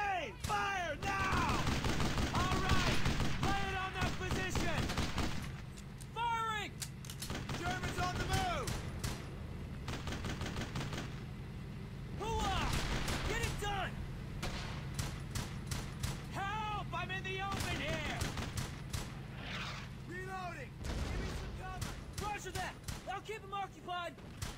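Gunfire in the World War II shooter Brothers in Arms: Hell's Highway, with repeated bursts and single shots, some near and some farther off, broken by brief lulls while soldiers shout over the battle.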